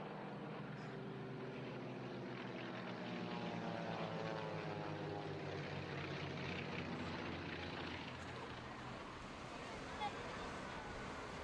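Propeller engines of vintage aircraft drone at a British airshow, a steady distant roar whose pitch slowly shifts as the planes pass, continuing for the whole stretch.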